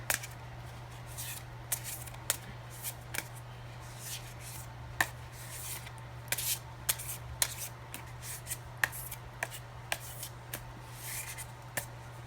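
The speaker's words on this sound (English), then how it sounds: "let us give it just one last shuffle here" Soft papery rustling and light card flicks, scattered taps in an irregular rhythm over a low steady hum, close and quiet.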